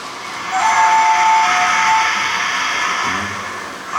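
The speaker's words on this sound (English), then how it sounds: "Sorry, I pressed one of the whistles as well." A Hornby TT-gauge model of the Tornado steam locomotive gives a sustained, fairly loud electronic whistle lasting about a second and a half, with the model's running hum continuing underneath and no speech.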